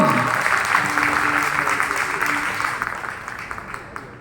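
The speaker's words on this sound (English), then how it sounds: "a big round of applause together for the wonder boy, mathematics, 9 years old, Pratin Gupta" A large audience gives a sustained round of applause for a 9-year-old mathematics prodigy at a science city award event, dense clapping fading gradually over a few seconds.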